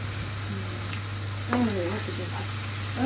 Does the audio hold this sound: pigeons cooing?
no